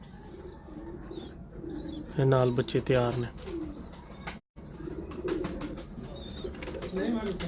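Teddy pigeons give soft, low coos at close range, mostly under someone speaking, with a louder burst of calling in the middle.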